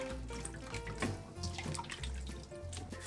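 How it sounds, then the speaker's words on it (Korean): Salted cucumbers being rinsed in water in a kitchen, steady running and splashing water with small drips, close and continuous for a few seconds, no talk. "절인 오이는 물에 한번 씻어주세요."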